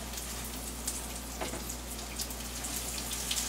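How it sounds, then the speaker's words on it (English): Eggplant slices gently frying in extra light olive oil give off a soft, continuous crackle and spatter, close by and moderately quiet, with a few sharper pops. "We're going to gently fry it on both sides, and then we'll place it back in the baking dish."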